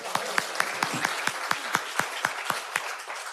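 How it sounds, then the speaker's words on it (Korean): Rhythmic, evenly spaced clapping at a South Korean political party nomination ceremony, close and distinct, each clap sharply separated over a few seconds of crowd noise. "박수 한번 더 주십시오"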